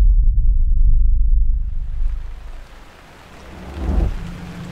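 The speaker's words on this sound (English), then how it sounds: "It's raining here." Rain falls in a heavy, steady hiss, with a deep rumble of thunder at the start that fades out before a second, softer swell of noise, and no one speaks.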